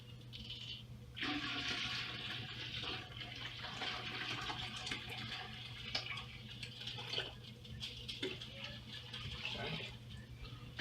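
Water poured from a container into a homebrew boil kettle on a grapefruit shandy brew day, a steady, close rushing splash that keeps going for about ten seconds with small knocks and bumps.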